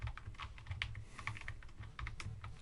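Rapid, uneven keystrokes with metallic clacks rattle on close and steady, the staccato bursts of a mechanical typewriter being played with, alone with no voice.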